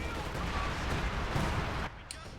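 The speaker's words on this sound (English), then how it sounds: "I hear what sounds like some big artillery going in somewhere" Heavy artillery fire in Company of Heroes 2: a continuous roar of distant shelling and gunfire rumbling steadily, then cutting off abruptly near the end.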